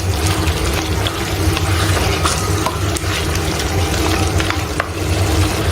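Chicken roasts in a karahi with a loud, steady sizzle and frying hiss, broken by scraping stirs and occasional clinks of a spoon against the pan, close up and continuous, with no talking.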